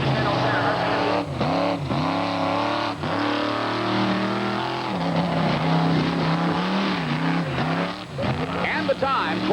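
A yellow 1988 Ford monster truck roars through a mud bog run at a 1989 off-road jamboree in Bloomsburg, Pennsylvania, its engine loud and revving in rising and falling surges while an announcer talks over it.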